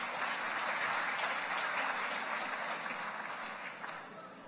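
Applause from the crowd at a nature photography awards ceremony honoring a 16-year-old winner, dense sustained clapping that fades slightly toward the end, with no speech over it.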